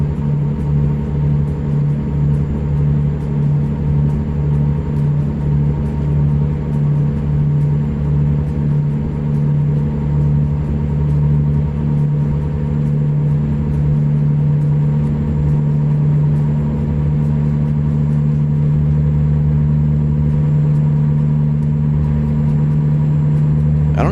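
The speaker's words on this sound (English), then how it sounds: "Best sounding engine, I want to hear that for myself." A truck engine from American Truck Simulator drones at a steady, loud, low pitch for a long stretch, a constant deep hum with slight rumbling variation and no speech.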